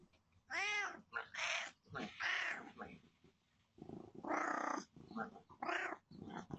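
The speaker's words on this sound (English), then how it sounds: "This cat was letting his owner know that he wanted to come inside." A chatty house cat meows repeatedly at a door, asking to be let inside, with a run of loud, close, drawn-out and warbling calls separated by short pauses.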